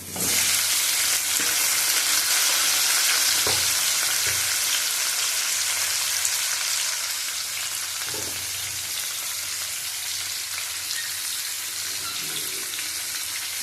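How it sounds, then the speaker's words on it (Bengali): Nigella seeds and cut taro fry in hot oil, a loud bright sizzle that is steady throughout, with occasional low knocks from stirring and a slight drop in intensity partway. "তেলের মধ্যে দিয়ে দেবো কালো জিরে, কেটে রাখা গাঠি"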